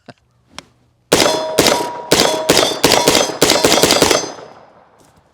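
A Daniel Defense DD PCC 916 9mm carbine fires about nine sharp, loud shots in an uneven rapid string, each crack ringing with a metallic clang and short tail, after a couple of faint clicks.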